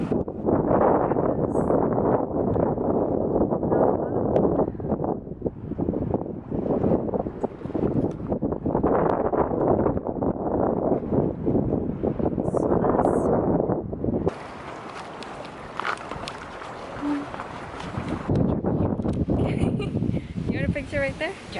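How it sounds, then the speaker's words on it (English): Wind blowing outdoors on a nature hike, a steady broadband rush buffeting the microphone throughout, with a quieter, thinner stretch partway through. "Just hear the wind."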